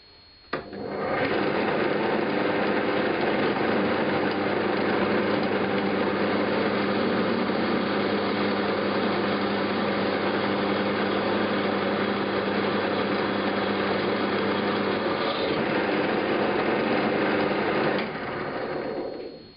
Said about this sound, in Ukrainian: подивитись як як станок справляється з цією заготовкою